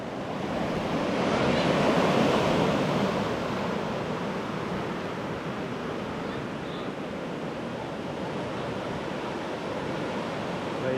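Ocean waves roll onto the beach at Hard Rock Punta Cana, a steady broad surf roar that swells slightly early on, with some wind noise and no talk.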